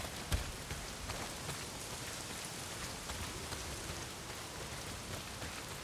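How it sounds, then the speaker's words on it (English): Heavy, steady rain in the video game Days Gone pours down continuously, a dense hiss of drops hitting surfaces with no pauses, loud and close throughout. "not if it's pissing down rain"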